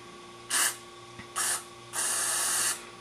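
Cleaner is sprayed from an aerosol can through a small carburetor jet during carburetor cleaning: three sharp hissing bursts, two short and one longer, close up with no talking.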